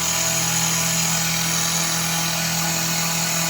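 A cordless drill spins the feed of a milling machine taking a five-thousandths cut during a hydrostat repair on a White skid-steer loader, a steady close motor whine with a low hum, continuous and alone with no speech.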